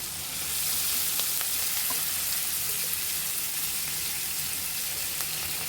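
Ginger and garlic sizzling in hot oil for a prawn masala, a dense, bright, continuous frying hiss that holds steady and close without pause.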